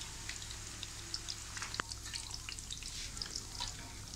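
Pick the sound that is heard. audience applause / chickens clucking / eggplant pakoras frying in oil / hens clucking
eggplant pakoras frying in oil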